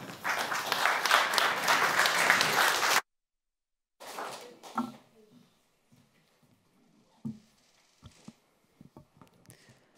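Warm audience applause at a Dutch literary evening on Kanafani's Palestinian resistance literature, clapping strongly for about three seconds, then cutting to near silence broken by a few faint shuffles and knocks.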